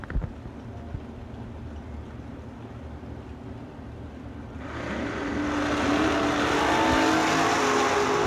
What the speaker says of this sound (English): Ted Barnes in the Datsun in the left lane, dialed 662.